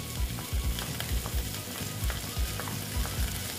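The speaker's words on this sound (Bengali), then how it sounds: "এই ছানাটা আমি এখানে দিয়ে দিচ্ছি।" Chhena, a fresh cottage cheese, goes into a pointed gourd curry sizzling in the pan, the steady frying hiss broken by repeated scraping stir strokes close by.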